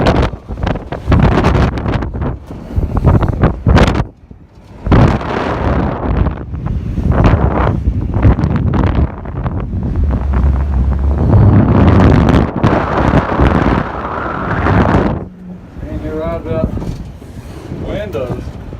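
Strong, gusty wind buffets the microphone atop a fire tower on a mountain peak in the Smokies, roaring in uneven bursts with brief lulls while someone talks over it.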